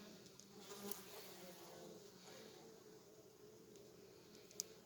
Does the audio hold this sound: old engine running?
no